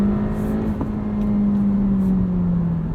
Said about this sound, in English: It responds well to rev match downshifts